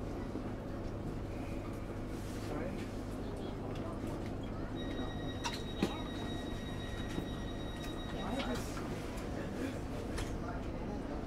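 Steady low rumble of a passenger train to London Waterloo near Hampton Wick, heard from inside, with faint clicks and a brief electronic tone midway.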